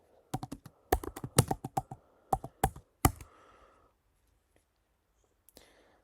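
Quick bursts of close keystrokes clatter on a computer keyboard as a terminal command is typed, followed by a pause and a single faint final key press.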